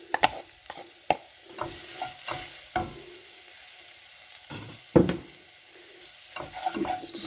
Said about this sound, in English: You just want to fry it off very quickly.